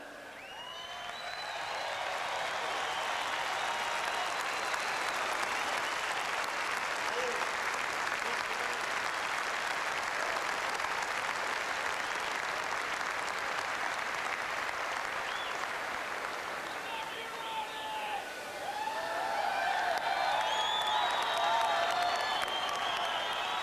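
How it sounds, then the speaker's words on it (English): Sustained applause from a large crowd of Cubs fans at Wrigley Field during a 2003 playoff game ceremony, steady and broad, briefly dipping before swelling again with some whistles and cheers. "Cub fans everywhere applaud and salute you."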